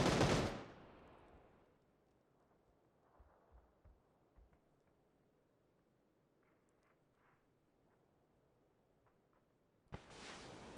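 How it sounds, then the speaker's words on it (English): Loud burst of gunfire in a PUBG esports scrim match opens the clip, then fades to quiet ambience with faint scattered distant shots before another sharp loud volley at the end. "They hear the shots coming out and they go"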